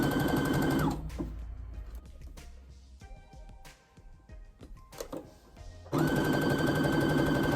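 A sewing machine stitches a sleeve into the armhole of a wrap dress, loud steady running bursts at the start and end with quieter handling and fabric movement between, no talking.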